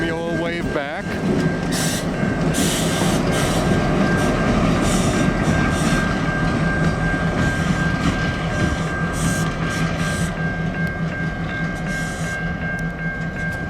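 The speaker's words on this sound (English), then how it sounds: "So this is the London to Paris, Ontario, of course, local train" A CN local passenger train on the London to Paris, Ontario run passes close by, with a steady loud rumble and rhythmic clatter of wheels, a sustained horn tone throughout, and a voice talking briefly near the start.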